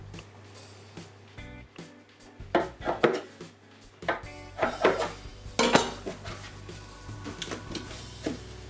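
A knife or scraper cuts lightly floured baguette dough into three equal pieces on a work surface, giving a series of sharp taps and knocks with a low steady hum beneath.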